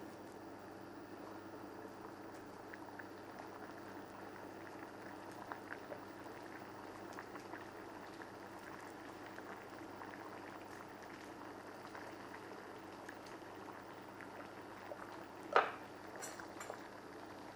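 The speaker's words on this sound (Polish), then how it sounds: "Następnie wrzucam do wrzącej wody." Water for blanching broccoli bubbles in a pot at a quiet rolling boil, a soft continuous hiss and burble, with a brief metallic clink near the end.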